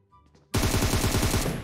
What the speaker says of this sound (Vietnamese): Có tiếng chân này.